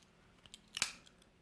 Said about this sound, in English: these scissors really do come in handy a lot